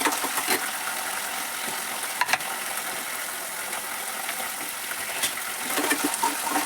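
Field beans (avarekalu) fry in a little oil with a steady, close hiss of sizzling, broken by occasional stirring clicks and scrapes, and no voices.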